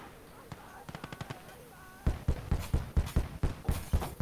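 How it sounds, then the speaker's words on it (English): Anti-aircraft gun firing in the Gates of Hell video game, a regular series of heavy, thumping rounds that begin after a few lighter shots, loud and rhythmic. "Sounds like anti-air."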